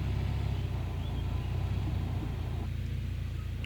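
Heavy machinery on a gold mining site rumbles low and steady as it starts rolling after the handbrake is released, a continuous close engine drone with no speech.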